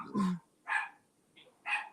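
Dogs bark three times in short, separate bursts, fairly close and loud, with quiet gaps between them and no talking.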